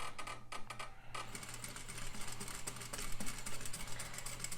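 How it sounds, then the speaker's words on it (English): A sewing machine stitches a flat felled seam along a pinned line, running in a steady, continuous mechanical hum at moderate loudness with no voices. "I'll pull that out and I can continue sewing"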